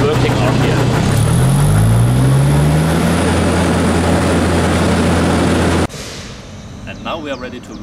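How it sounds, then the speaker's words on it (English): The engine on a Wieland VacTrailer S-4 vacuum trailer starts up, its low drone rising in pitch as it settles into a loud, steady run, then the noise cuts down abruptly near the end. "in the second position the engine is turned on"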